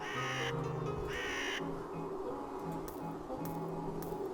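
Crows cawing in the adventure video game The Whispered World, with a few harsh caws in the first second and a half over a faint, steady ambient background, no speech.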